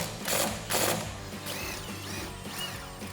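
A ratchet with an 18mm socket backs out a strut bolt on a 2011-2023 Dodge Challenger during a coil-over install, two close bursts of rapid clicking followed by fainter mechanical rattling, no talking.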